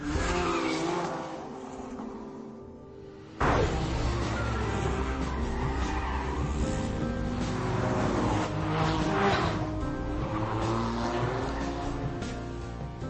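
A vintage supercar is driven hard, its engine roaring loudly and continuously with tires squealing through corners and a sudden surge of power partway through.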